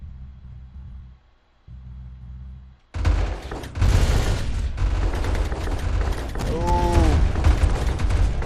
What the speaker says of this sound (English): oh, I'm being shot at by him.